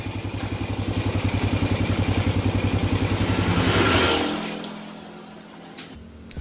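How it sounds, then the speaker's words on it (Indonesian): A Honda Supra Fit motorcycle engine runs with a rapid, throbbing pulse, then cuts off, leaving near silence with a faint clatter at the end. "setelah dihidupkan motornya itu untuk suara mesin sudah normal kembali"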